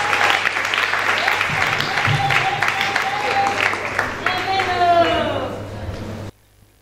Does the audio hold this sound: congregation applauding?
yes